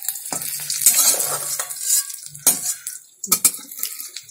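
Chopped beetroot dropped into hot oil in a home kitchen pan, then stirred: a loud burst of sizzling and frying with scraping utensil strokes and clinks against the pot, close and busy.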